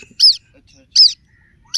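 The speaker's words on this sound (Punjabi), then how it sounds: "ਪ੍ਰਵਾਸੀ ਪੰਛੀਆਂ ਦੇ ਨਾ ਕੁਝ ਬੱਚੇ ਆ ਪਤਾ ਨਹੀਂ ਜਾਂ ਟਟੋਲੀ ਆ ਤੇ ਐ ਉਹਦੀ ਮਾਂ ਆ" High-pitched chirping calls of migratory bird chicks and their mother, three short bright bursts spaced evenly apart, close and clear against a quiet background.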